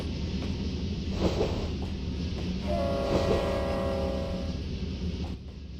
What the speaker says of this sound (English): You can see he's meeting a charter train that's passing him there.